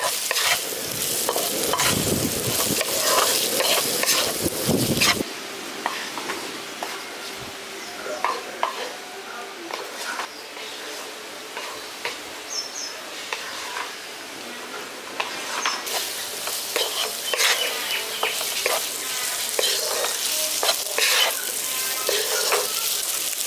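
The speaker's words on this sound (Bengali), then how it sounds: "কাশ্মীরি লঙ্কার গুঁড়ো দিয়ে দিচ্ছি 1 চামচ, আর দিয়ে দিচ্ছি পরিমাণ মতো একটু চিনি। ভালো করে মিশিয়ে দিচ্ছি।" Ground spices, Kashmiri chilli powder and a little sugar, are stirred into sizzling oil in a pan, a steady frying hiss broken by repeated scraping strokes of the spoon, close and continuous throughout.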